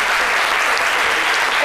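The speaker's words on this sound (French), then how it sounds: "merci d'applaudir très fort le collège Prosper Mérimée" A studio audience on the French-language TV programme C'Midi claps loudly and densely in a continuous burst of close, bright applause with no talking over it.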